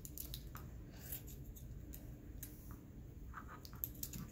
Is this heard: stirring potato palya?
no